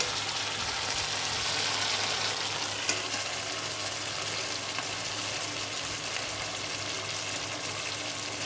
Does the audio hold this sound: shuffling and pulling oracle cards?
no